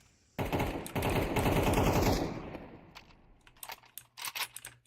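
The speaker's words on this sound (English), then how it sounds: "We have Dig making some noise on A, just trying to wallbang." Rapid automatic gunfire wallbanging on bombsite A in Counter-Strike, a dense burst of about two seconds fading out, followed by a few sparse, quieter clicks and shots.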